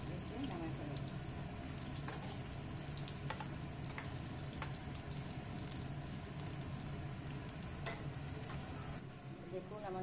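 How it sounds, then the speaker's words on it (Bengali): Naan bread fries in a pan with a steady, close sizzle and crackle that runs unbroken for about ten seconds, with light stirring or scraping mixed in. "দেখুন আমার নানগুলো ভাজা হয়ে গিয়েছে"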